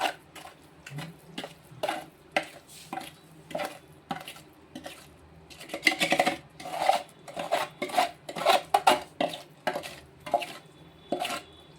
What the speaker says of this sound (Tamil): இப்போ இதை வந்து கையெடுக்காமல் கிண்டணும் அடுப்பை கொஞ்சம் குறைச்சே வச்சுக்கிறணும்